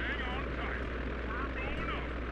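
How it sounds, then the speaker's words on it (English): Helicopter in the video game Sly 2: Band of Thieves, a steady droning engine and rotor hum with a faint wavering whine, continuous and mid-distance, with game sounds layered over it. "Gotta go up on the helicopter."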